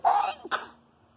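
Someone close by lets out one abrupt, explosive sneeze with a throaty cough-like edge, followed by a short sharp burst and then quiet.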